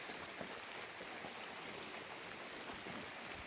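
Steady, dense rain falling around a hut in the Semende highlands of the Bukit Barisan range in Sumatra, a continuous close hiss with no other sounds.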